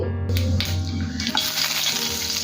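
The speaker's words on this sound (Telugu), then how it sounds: "ఒక వన్ టీ స్పూన్ జీలకర్ర పావు టీ స్పూన్ వాము యాడ్ చేసుకోండి" Cumin and ajwain seeds fry in hot oil in a pan, a close, busy sizzle with crackling pops that swells as they hit the oil and keeps spitting steadily.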